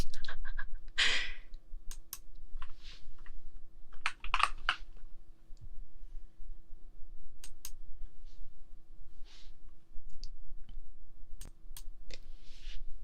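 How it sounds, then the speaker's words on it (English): Soft, sparse clicks of a computer mouse or keyboard while opening a fanfiction in an office setting, scattered taps spaced a few seconds apart over a quiet background hum, with occasional breathy sighs. "I wonder if the clicking is loud"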